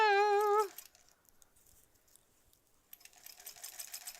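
A sewing machine begins stitching a steek in a wool knit sweater. It opens with a brief tonal whine, then comes a quiet gap, and then it settles into a faint, rapid ticking run in the second half.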